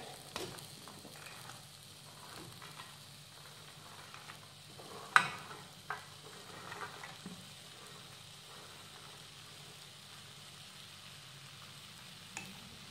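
Eggplant and potato pieces and mixed vegetables being stirred together in a pan, a quiet steady sizzle with soft scraping and an occasional sharper clink of the spoon.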